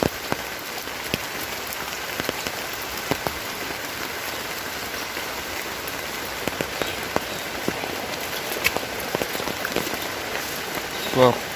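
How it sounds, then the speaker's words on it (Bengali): Steady rain falling for two days, pattering continuously on surfaces outdoors in a muddy rural yard, with scattered sharper drops and no voices. "কাদা হয়ে গেছে, কারণ 2 দিন ধরে বৃষ্টি পড়ে।"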